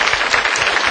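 A lecture audience claps in a brief, dense burst for about a second, a steady wash of many hands with no voices over it.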